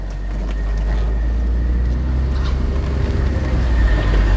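A BMW X3 with the M54 six-cylinder petrol engine gives a steady, deep low rumble throughout, loud and continuous with no talk over it.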